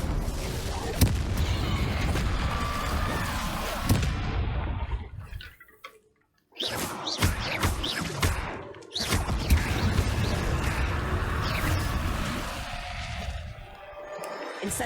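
Incendio fire spell cast in Hogwarts Legacy, a series of loud blasts and crackling bursts mixed with game effects and a spoken voice, broken by a brief near-silent gap before the sharp impacts resume.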